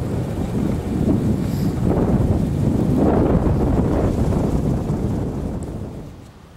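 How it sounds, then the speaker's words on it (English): Strong blizzard wind blowing about 25 to 30 miles an hour in southwest Michigan, a loud, continuous rushing roar that buffets the microphone, swells and eases slightly, then fades at the end. "Wind's blowing about 25-30 miles an hour."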